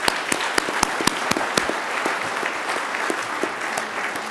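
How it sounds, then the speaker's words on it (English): A conference audience at an annual meeting applauds steadily and fairly loudly throughout, with a dense wash of many hands and sharper individual claps standing out on top. "a round of applause for our Canadian friends who come up every year"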